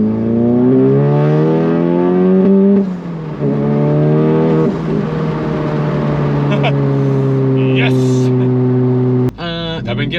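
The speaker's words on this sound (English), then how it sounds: "I keep getting these little like breakup / misfire kind of things" A VW MK7 with an IS38 turbo revs loudly and climbs through the gears, its engine tone rising in long sweeps, then breaks up and misfires near the top end before a sharp crackle; people talk over it.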